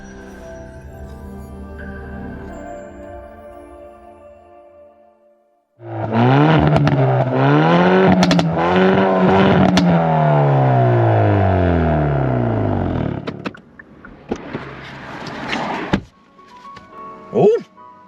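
A Hyundai i30N Performance hot hatch engine rises and falls in loud, sustained revs after a quiet opening, then cuts to softer intermittent noise with a few sharp knocks near the end.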